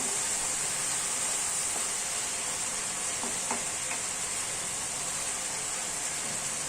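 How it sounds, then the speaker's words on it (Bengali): Tangra fish and cauliflower curry is stirred in a pan, with a steady hissing sizzle under a few faint scraping strokes of the utensil, close and continuous. "মাছটা প্রায় হয়ে এসেছে, এটাকে একটু নেড়ে চেড়ে দিতে হবে।"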